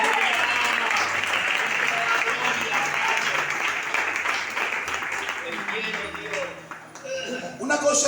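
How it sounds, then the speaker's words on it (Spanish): Church congregation claps in praise during a sermon, a steady wash of applause that gradually thins toward the end, with a faint voice and a brief ping near the close. "Dale un aplauso al Señor,"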